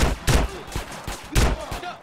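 Gunfire in the video game GTA San Andreas, several quick loud shots in rapid bursts over about two seconds, close and sharp with no talk.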